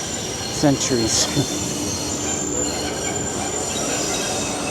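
A crowded subway train on Commonwealth Avenue in Brighton, Boston, passes at dusk with loud, high metallic wheel squeals in several bursts over a steady rolling rumble, close by, with a brief word of speech.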